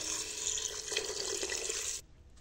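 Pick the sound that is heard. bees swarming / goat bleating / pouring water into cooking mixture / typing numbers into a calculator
pouring water into cooking mixture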